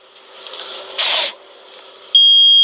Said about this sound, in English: This alarm can't be silenced.